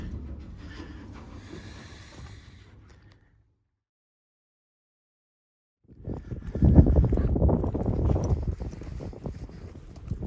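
Horse hooves clop on a hard surface on a ranch, a scattered run of knocks, then silence, then louder stomping and thumping nearby as the horse is loaded.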